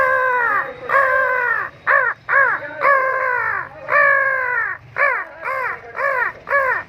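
A man imitates a crow's caw with his voice, producing a close, loud series of harsh, nasal caws, some drawn out and some clipped short in quick groups, with no other sound around them.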